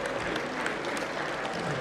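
Applause from the audience at an inaugural speech, a steady, moderately loud patter of many hands clapping that carries on evenly without any talk.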